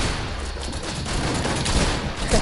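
Rapid gunfire in the video game Fortnite, a loud, dense volley of shots crackling continuously with no voices over it.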